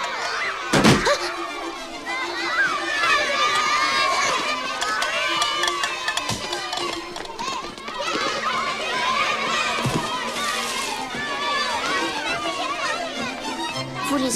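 A crowd of children shout and cheer in an animated French family film, with loud, overlapping cries that run steadily throughout and a few sharp slams or thumps mixed into the din.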